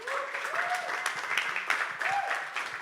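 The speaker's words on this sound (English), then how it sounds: "So let's give a round of applause to him first." Audience applause at a conference panel on fault tolerance solutions, a steady wash of clapping that continues throughout under a rising background voice.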